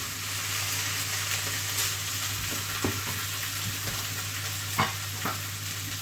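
Cubed spam fries in hot oil in a pan, giving a loud, continuous sizzle and crackle with occasional sharp pops and stirring scrapes, close up and with no talking.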